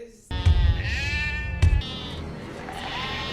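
A sheep in a film scene gives a loud nasal bleat close up. A heavy thump comes partway through, followed by a softer second bleat, with voices around it.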